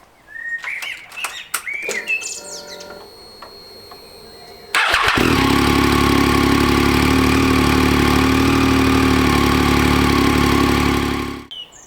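A modern commuter motorcycle fires up on its electric starter after some birdsong and small clicks, catching instantly into a loud, steady idle that runs close by for several seconds before cutting off.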